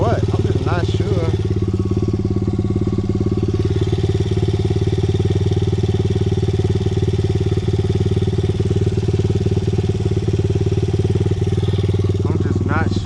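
A Honda XR100 motorcycle with a suspected burned clutch idles close by, a loud steady low throb with mechanical clatter, with brief talk at the start and the end.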